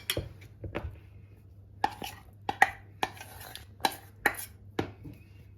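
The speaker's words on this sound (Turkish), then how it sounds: "Spatula yardımıyla çikolatamızı iyice hamurun içine ilave ediyoruz." A spatula folds chocolate ganache into brownie batter in a bowl, producing a series of sharp, irregular knocks and scrapes against the bowl, fairly close and otherwise quiet.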